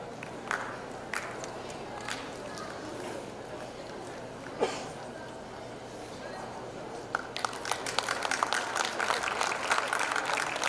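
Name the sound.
audience applause for a prize winner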